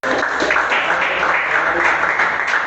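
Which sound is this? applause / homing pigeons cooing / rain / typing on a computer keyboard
applause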